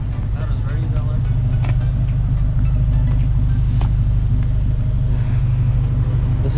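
Four-wheel-drive tow rig engine rumbling, a steady loud low drone heard from nearby with intermittent knocks and clatter, with people talking over it.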